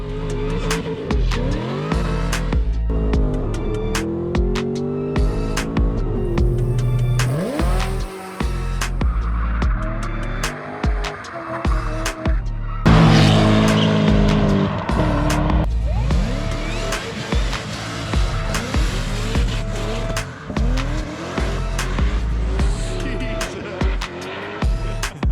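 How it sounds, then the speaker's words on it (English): Honda K24-powered Datsun 1200 drag car revving hard through a burnout, a loud continuous engine roar with rising and falling revs and tire squeal, close by, with brief voices mixed in. "I think it'll do a burnout just fine"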